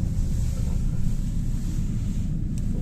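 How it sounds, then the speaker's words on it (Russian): Strong wind roars and buffets the microphone in a continuous low rumble, loud and unbroken for the whole stretch, outdoors on a cold April day in Jelgava, Latvia. "Ходить пешком мы не будем, сильный ветер, очень сильный ветер"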